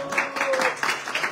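Scattered applause from a seminar audience, light and uneven claps spread across the short moment, fairly close and not very loud, with a faint tonal hum running underneath.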